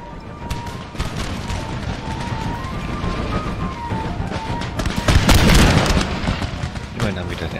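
Rapid crackling musket volleys in the video game Empire: Total War with Darth Mod pop in scattered bursts, building to a denser, louder salvo midway, with voices talking over the gunfire.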